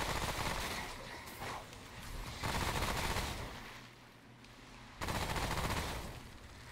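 Sustained automatic gunfire in Remnant: From The Ashes, a dense fusillade of rapid shots that swells and dips in long bursts, fairly distant and alone without talk.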